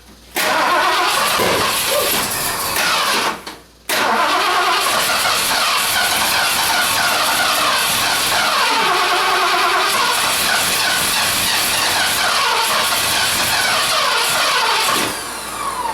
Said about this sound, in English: Another little backfire.